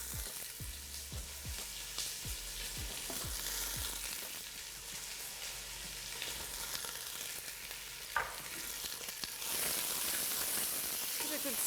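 Onions hitting hot olive oil in a pan sizzle steadily up close, with several sharp knocks and stirring scrapes early on and the hiss swelling louder near the end.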